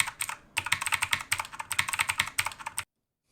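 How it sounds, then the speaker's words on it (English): Redragon Kumara K552 mechanical keyboard with clicky blue-equivalent switches, typed on in a quick, steady run of crisp, loud clicks, close up and with no voices, ending in silence. "with these Otimu switches, which are cherry blue equivalents, they have a very nice click to them"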